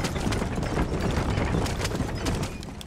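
Horse hooves clip-clop in a quick, steady galloping rhythm while riding across open country in the Red Dead Redemption video game, loud and close throughout.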